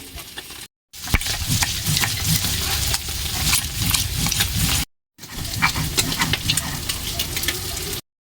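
Chilli and chopped ginger frying with spices in a pan of hot oil while cooking small fish with taro greens, a steady crackling sizzle with stirring scrapes, briefly cut twice.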